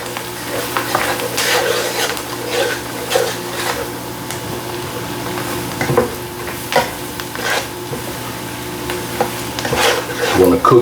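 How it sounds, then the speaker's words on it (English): Flour roux for smothered pork chops stirred in a hot pan, soft sizzling under repeated scraping strokes of a utensil against the pan, close and moderately loud. "What we gonna do with this is we making a roux, y'all. We're making our roux."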